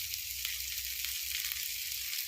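Dried fish frying in a little oil in a flat pan, giving a steady, close hiss of sizzling with small crackles throughout and no talking.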